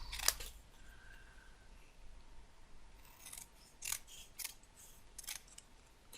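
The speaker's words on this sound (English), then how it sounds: "And I'm just going to chop that out." Scissors snip out a die-cut paper letter, a handful of sharp crisp cutting clicks spaced irregularly, close and fairly quiet over a soft background hiss, with no talking.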